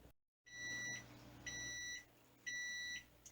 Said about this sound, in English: Alright, the timer's going off.